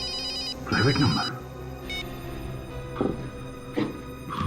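A telephone rings from a private number, giving a short electronic ringtone burst at the start and a brief tone later, while people talk over music in the background.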